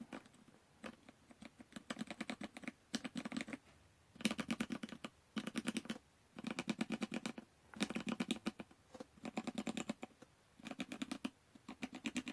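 Steady bursts of typing on a mechanical keyboard with ABS keycaps, rapid clacky keystrokes in short runs separated by brief pauses, heard close up with no voices.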